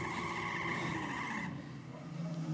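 Drag race car's rear tyres squealing and scrabbling for traction at launch: a loud, steady, high-pitched screech over engine roar, easing slightly partway through.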